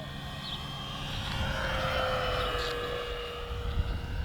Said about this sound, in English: I want you guys to hear this plane flying by